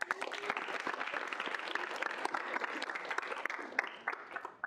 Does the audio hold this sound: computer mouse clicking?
no